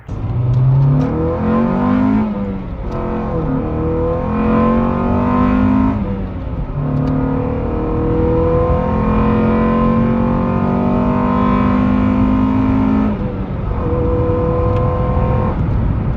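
A 1990s Acura Integra engine with an AAM short ram air intake revs up and down repeatedly, its intake roar rising in pitch with each throttle blip and dropping back, loud and close with no talking.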